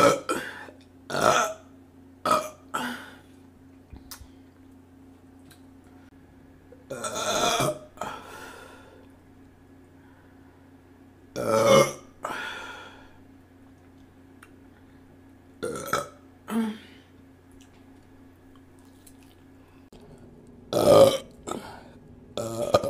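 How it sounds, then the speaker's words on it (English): Loud, close burps after drinking Dr. Pepper and cream soda, a string of about eight separate belches spaced a few seconds apart, some long and croaky, with quiet pauses between. "Dr. Pepper and the cream soda is really big for burps."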